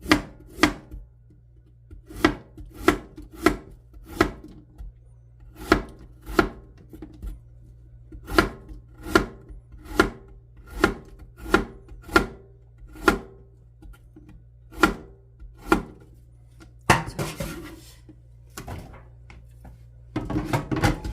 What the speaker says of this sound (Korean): 이렇게 해서 하나만 더 썰어볼까요?